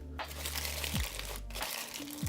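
Regular aluminium foil is crinkled and stretched over a hookah bowl, producing close, quiet crumpling and crackling in a few short bursts.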